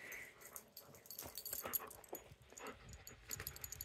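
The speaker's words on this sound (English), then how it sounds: "is dogs getting in my film." A dog whimpers and pants softly nearby, with faint breathy whines and small yips coming in short irregular bursts against a quiet background.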